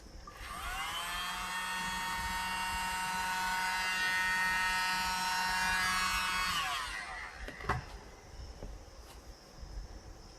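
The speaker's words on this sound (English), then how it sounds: "here we go with our mini blower" A small handheld mini blower whirs steadily for about seven seconds, spreading acrylic paint across 4x4-inch tiles in a Dutch bloom pour, then cuts off, leaving faint handling clatter and bumps.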